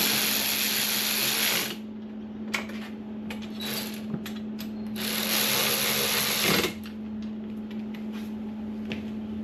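Welding on a Mk2 Ford Escort RS2000 body panel: two sustained crackling, buzzing bursts, close and loud, separated by a quieter stretch of clicks and shop hum.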